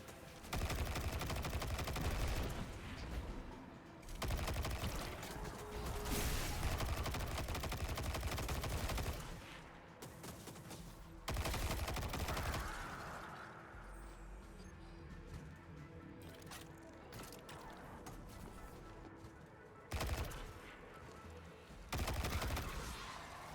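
Gunfire in Destiny 2 while shooting coral off underwater structures: long sustained bursts of rapid automatic fire, several separate volleys with short pauses between them, fairly loud and close.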